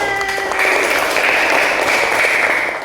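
Children in a second-grade maths classroom clap together, a short burst of close, bright applause that fills the room for a few seconds without talk over it.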